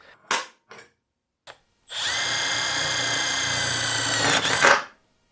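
A Milwaukee cordless drill on its self-tapping screw setting drives a screw with a steady, high motor whine lasting about three seconds before stopping abruptly, preceded by a few light clicks and taps.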